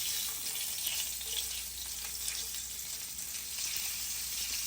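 Onions frying in a large pot for smothered pork chop gravy, a steady bright sizzle that holds evenly throughout, close and continuous with no talking.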